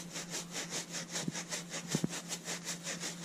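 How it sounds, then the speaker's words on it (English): Rhythmic scrubbing of a stain, a steady back-and-forth brushing at close range with a few sharp knocks partway through, no voices. "it's a good idea to scrub, scrub, scrub, scrub, scrub."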